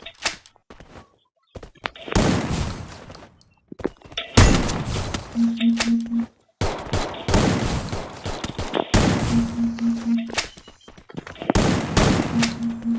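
Free Fire video game gunfire: several loud bursts of rapid shots separated by quiet gaps, with brief sustained tones between some bursts.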